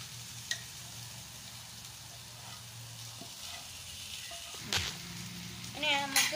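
An egg sizzles and fries in a pan for hakka noodles, a steady quiet hiss with a few clinks and stirring taps, a voice briefly audible.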